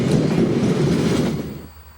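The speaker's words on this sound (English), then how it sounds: "A northbound automobile train rolls across the spectacular Richardson Trestle." A northbound CSX automobile train rolls across a high trestle, a loud, dense rumble of cars and wheels that holds steady close by before thinning out and fading at the end.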